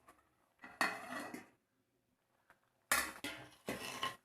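A spoon scrapes and clinks around the sides of a pot of sardine curry made with bilimbi, in three short bursts of metallic scraping separated by near silence.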